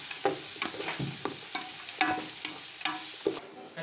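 Flattened rice (poha), washed in salt water, is stirred into a hot frying tempering in a pan: a steady sizzle broken by repeated scraping stirs at a quick, uneven rhythm, close up, with no talking.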